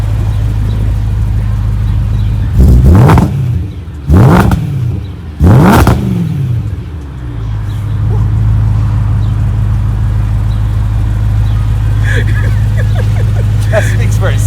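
A BMW M3 with test pipes and the catalytic converters deleted revs hard to high RPM three times, each loud blip rising and falling, then settles into a steady rumbling idle.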